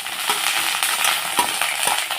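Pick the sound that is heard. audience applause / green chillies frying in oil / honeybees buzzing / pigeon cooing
green chillies frying in oil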